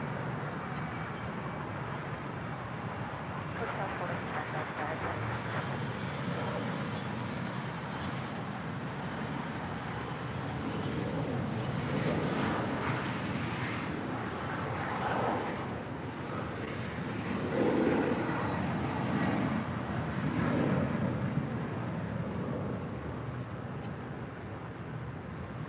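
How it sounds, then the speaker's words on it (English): An Aeromexico Embraer E190 LR jet departs LAX for Monterrey with a steady, broad distant roar that swells in the middle and later stretches, mixed with wind buffeting the microphone. "This is Aeromexico Flight 2705 departing to Monterrey, Mexico on an Embraer E190 LR."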